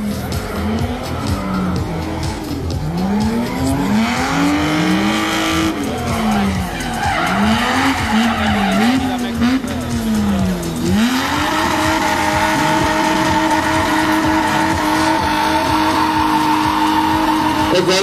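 Drift cars slide around a race track at Nafplio in 2011, their tires squealing in long, rising and falling arcs over steady engine roar, loud and close for the whole stretch.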